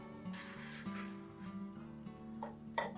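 Vadam frying in hot oil gives a continuous close crackling sizzle with bursts of bubbling and a few louder pops toward the end, with no talking.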